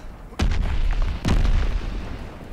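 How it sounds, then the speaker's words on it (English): Two heavy mortar shell blasts strike in quick succession, loud and close, each a sudden boom with rumbling decay, amid a battlefield in Call of Duty: Vanguard. "Mortars incoming!"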